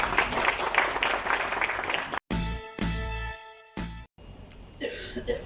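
Applause from the audience at a beverage company's production line inauguration, a dense burst of clapping that stops abruptly after about two seconds, followed by a few throat clears or coughs and brief quiet gaps.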